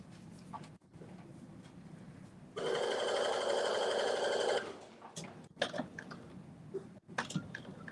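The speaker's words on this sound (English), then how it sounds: "I am also stitching this very slow just to make sure it doesn't gather as I'm stitching" Home sewing machine slowly stitching caftan fabric, a steady mechanical whir for about two seconds in the middle, with quiet handling rustles and small knocks before and after.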